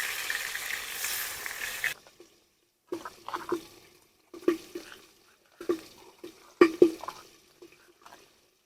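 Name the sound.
fish frying and sizzling in oil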